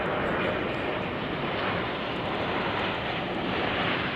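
A jet airliner arriving at Heathrow on runway 09L passes overhead with a steady, loud, broad engine roar and wind rush, no breaks throughout.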